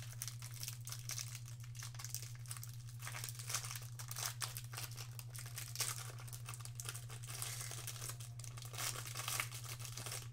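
Wrapper of a 2019-20 Panini NBA Mosaic or Prizm retail trading card pack being opened: close, continuous crinkling and tearing of foil plastic over a steady electrical hum, with no talking.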